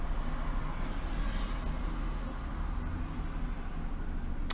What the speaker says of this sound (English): Loud vehicle outside. Is that a bus?